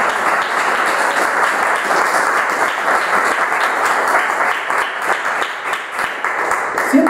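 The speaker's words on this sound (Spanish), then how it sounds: "¿No se merece un aplauso," A church congregation breaks into loud, sustained applause during a sermon, many hands clapping steadily, with a brief voice surfacing near the end.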